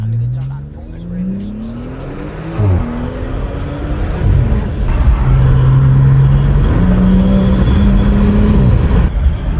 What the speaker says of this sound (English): you cannot tell me you don't hear that turbo more